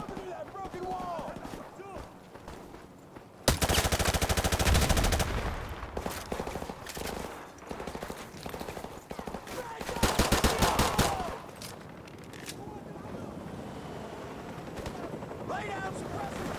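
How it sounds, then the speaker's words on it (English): Video game combat with bursts of rapid machine gun fire and scattered gunshots, two long loud volleys separated by sporadic shots, with shouted voices between. "Lay down suppressive fire!"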